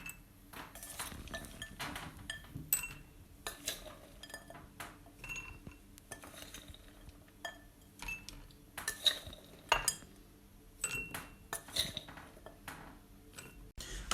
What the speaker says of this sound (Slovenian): Nato napolnimo 6 skodelic, ognjevarnih skodelic